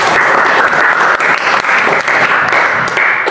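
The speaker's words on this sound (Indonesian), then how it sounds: "Tepuk tangan para kelompok" A group of students claps together in a classroom after a presentation, a loud, close, continuous burst of applause lasting a few seconds.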